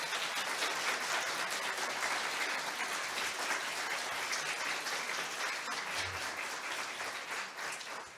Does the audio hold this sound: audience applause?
yes